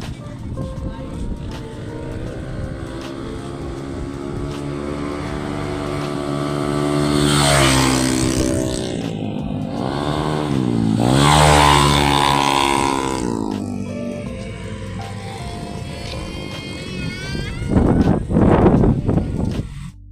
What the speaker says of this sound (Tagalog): Grabe ang lakas ng mga motor nila.